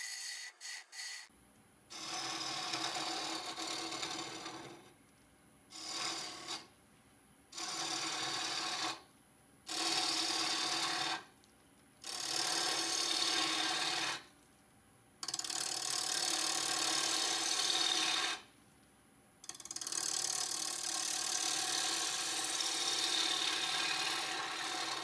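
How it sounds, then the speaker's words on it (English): Scraping tool on the inside curve of a green curly oak bowl spinning on a wood lathe, a steady rough rasping in long passes broken by short pauses, close and fairly loud with no talking. "I ended up going to just regular scraping so that I could refine that interior curve just a little bit"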